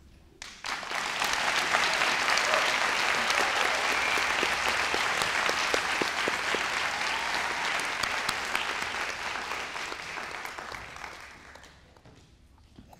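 Sustained applause from a large audience at a 2016 district-wide commencement ceremony for student speakers, rising quickly, holding steady and loud for about ten seconds, then fading at the end.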